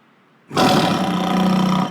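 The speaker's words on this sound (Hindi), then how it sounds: "तुमने भी शेर की आवाज सुनी?" A toy V8 motor's horn lets out a lion-like roar that starts abruptly after a half-second of quiet and holds loud and steady to the end, with no talk over it.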